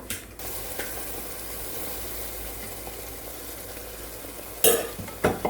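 Ground masala of poppy seeds, coconut and onion pieces fries in a pan with a steady, close hiss, and a couple of sharper scraping stirs come near the end.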